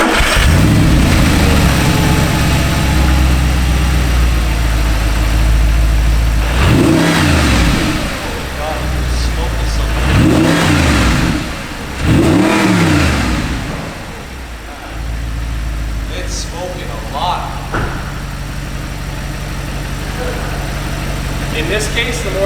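An Audi R8 engine runs loud and steady. Three short revs rise and fall in quick succession midway, then it settles back to a rumbling idle with light clanks around it.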